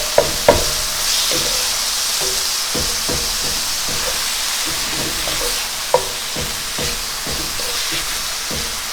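Chopped chicken fries in a pan with a steady loud sizzle while a utensil stirs and scrapes it in irregular clacks and knocks, with no talk.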